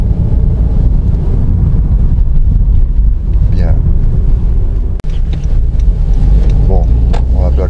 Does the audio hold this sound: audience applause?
no